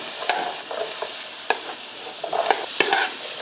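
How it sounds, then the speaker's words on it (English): Diced onion and green bell pepper sizzle in butter and oil in a skillet, a steady close frying hiss broken by small crackles and stirring clicks. "we got a nice sizzle going on with that butter and oil"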